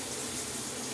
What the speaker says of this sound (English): So I'm gonna take a shower